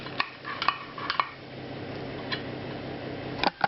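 Metal meat fork clicking and tapping against a buttered baking dish while twirling pasta, with scattered light ticks and a few sharper clinks over a low background hum.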